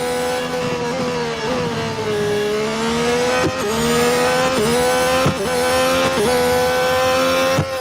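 Formula 1 car engine in Real Racing 3, revving steadily at high pitch while warming the tyres on the Singapore event, with sharp gear-shift dips and rises throughout, loud and continuous with no talk.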